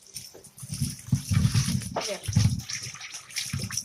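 Water goes into a shrimp dish cooking in a pan, heard as a few short, gushing pours and splashes against a quieter background.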